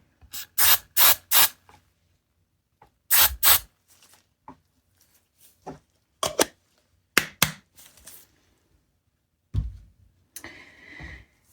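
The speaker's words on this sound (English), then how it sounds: "I'm going to spray it into my little cup." Short sharp hisses of hairspray sprayed into a small cup come in quick bursts of three or so, separated by quiet pauses and small clicks.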